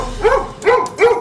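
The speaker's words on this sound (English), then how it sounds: "He barks incessantly." A nervous, excitable dog gives three loud barks close by, evenly spaced about a third of a second apart.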